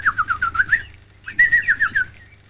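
Pet birds in a children's television studio sing and whistle in two bursts of rapid, bright warbling chirps, close and clear, with a brief pause between phrases and no talking over them.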